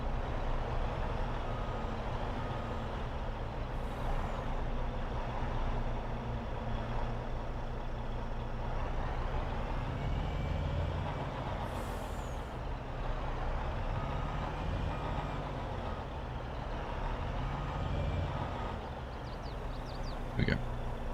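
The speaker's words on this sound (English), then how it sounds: "why are these trucks coming in here?" Trucks rolling into a farmyard in Farming Simulator 22, a steady low engine drone running throughout with a brief air-brake hiss and faint reversing beeps near the end, mixed under a talking voice.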